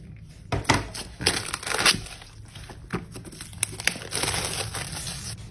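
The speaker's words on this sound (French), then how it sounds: "Allez, c'est parti, on va déballer ça." Close crinkling and tearing of packaging as a box of HHOGENE GPods wireless earbuds is opened by hand, with irregular rustles, crackles and a few sharp snaps, no voices.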